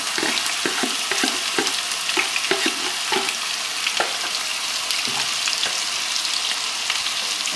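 Roughly chopped onion, two medium ones, sizzling steadily in a pan while a spatula stirs and scrapes through it in quick, irregular strokes, loud and close with no talking.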